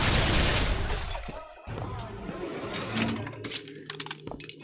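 Turret gunfire in Bioshock Infinite's Burial at Sea, a loud burst at the start followed by a run of sharp, rapid metallic shots and clinks that stutter irregularly to the end.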